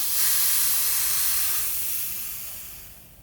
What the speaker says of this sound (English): release all the air from your shock